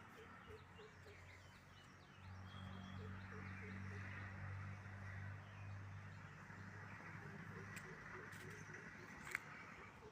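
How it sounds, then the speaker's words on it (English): A bird of prey gives repeated calls outdoors in a patterned series, moderately distant, over a steady low hum that begins partway through. "Again, this is the sound of the prey bird."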